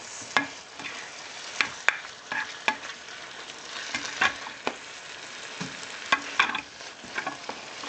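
Vegetables and pork with bone-in pieces cooking in a pot for Filipino pinakbet are stirred, giving irregular scraping clinks over a steady frying sizzle, close and fairly loud with no talking.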